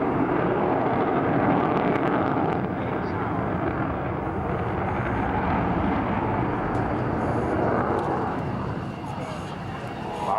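The Avro Vulcan XH558 delta-wing jet bomber flies low in a series of turns, its broad roaring engine noise loud and continuous, with commentary running over it throughout.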